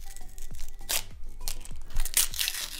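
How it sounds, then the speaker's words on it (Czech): Paper wrapping on a small sticker package tears in short crisp rips with crinkling and rustling, close up and fairly loud, with no talking. "Opatrně si otevři první balíček, ale opatrně, aby se nepřetrhla."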